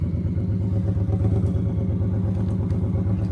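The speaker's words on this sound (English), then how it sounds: "You're going to hear how this bike sounds in his video with the stock pipes" A 2024 Harley-Davidson Road Glide motorcycle with stock exhaust pipes idles steadily, a loud, close, deep rumbling engine note with a continuous throb and no voices.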